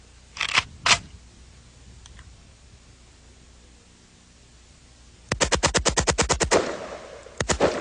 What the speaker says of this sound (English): It's an AK-47. Primary feature is with one pull of the trigger, it will fire repeatedly.